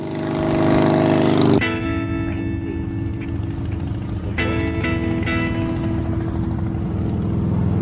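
A motorcycle engine idles with a rough, steady thrum, then revs up and pulls away, rising through the gears with a clear shift partway through, heard up close from the rider's seat on a road at Spearfish Canyon near Sturgis.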